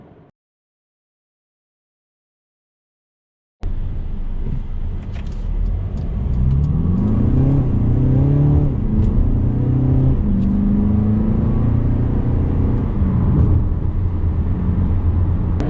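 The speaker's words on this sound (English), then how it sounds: "So the engine I'm driving is the 220 diesel." A Mercedes-Benz GLB 220d with its diesel engine, heard from inside while driving: after a few seconds of silence a steady engine drone rises in pitch through the gears and settles into a constant loud cabin hum, with no talking.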